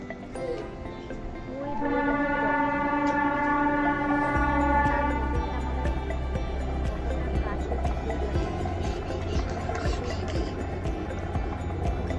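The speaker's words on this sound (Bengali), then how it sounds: "ওই দেখো টয় ট্রেন যাচ্ছে।" A toy train passing through wooded hills in Ooty, its sustained horn sounding steadily for a few seconds, then a low rumbling roll that continues under nearby talk.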